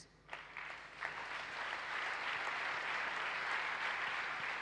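A church congregation at a Sunday service bursts into applause for Jesus Christ, the clapping swelling quickly and then holding as a dense, steady wash of many hands.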